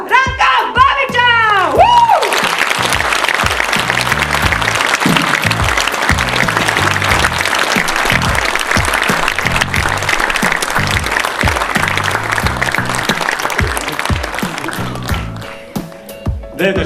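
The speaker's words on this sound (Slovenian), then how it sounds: "En velik aplavz za izvrstnega, fantastičnega Ranka Babiča!" Big applause from a live-show audience in Ljubljana, loud and dense for most of the stretch, with someone speaking briefly at the start and as the clapping fades near the end.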